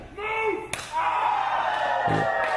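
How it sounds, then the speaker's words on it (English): A single sharp knife-edge chop delivered by Chris Bey in a wrestling ring, one loud crack standing out against crowd noise, with another smack-like impact a moment later. "And another huge chop from Chris Bey"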